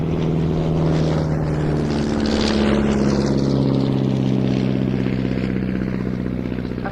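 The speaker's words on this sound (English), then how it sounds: "particular Spanish-built Casa Jungmann has a more powerful engine than the Bucher-built original, as Siobhan was saying." Spanish-built Casa Jungmann biplane with a 150-horsepower engine flying at an air display, a steady propeller drone with a swelling and fading pitch as it passes, heard continuously and fairly loud.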